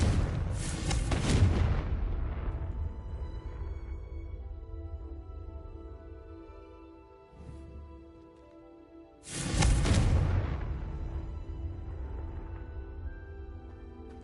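Two heavy booming fire blasts from the Confringo explosion spell in Hogwarts Legacy, each a sudden loud burst that rumbles away slowly, spaced several seconds apart with a softer low thud between them.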